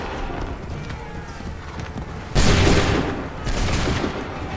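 Soldiers fire a musket volley in Assassin's Creed III: a sudden loud, crackling blast of many shots at once, then a second burst, over a busy battlefield din.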